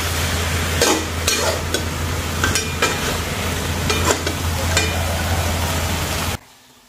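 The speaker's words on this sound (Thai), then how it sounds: "นี่ผัดฉ่าไข่ปลาแล้วน้ำเริ่มแห้งแล้ว" Fish roe being stir-fried in a pan for a Thai phat cha dish as the liquid cooks down, giving a steady loud sizzle with repeated scraping stir strokes, then stopping abruptly near the end.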